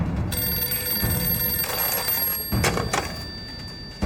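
An old telephone bell rings in a steady trill as a call is put through to a city public security bureau, with a couple of dull knocks partway and the ringing fading near the end.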